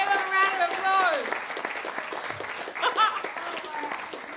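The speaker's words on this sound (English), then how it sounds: "Wasn't that brilliant? Give them a round of applause." An audience claps after a nature-themed talk: a steady wash of applause that lasts throughout, with voices mixed in.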